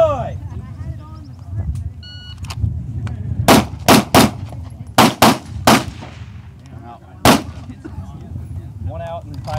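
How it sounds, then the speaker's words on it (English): Gunshots at a shooting range fired at targets from the 7-yard line, in quick bursts: two close shots, then a tight cluster of three to four, and one final shot, loud and sharp over background murmur and speech. "It is 3 rounds to the A zone left, 3 rounds to the A zone right, 1 round to the head box center."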